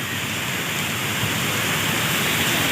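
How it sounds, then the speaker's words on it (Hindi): Steady rain pours down in Pakistan during a strong storm, a dense, constant hiss with no pauses, loud and close throughout. "बारिश शुरू हो गई है।"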